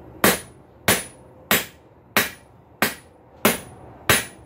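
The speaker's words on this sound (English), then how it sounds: "if you don't turn the billet a full 90 degrees, hammering back and forth, you'll end up with a trapezoid rather than a square shape." A hammer forges a steel billet into a square punch, with seven loud, sharp metallic strikes landing at a steady rhythm about two-thirds of a second apart, each ringing briefly before the next blow.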